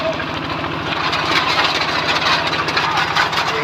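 The engine of a water well drilling rig boring through rock in Laos runs continuously, a loud, heavy, rumbling drone with a rapid knocking pulse and steady high noise, with no pauses.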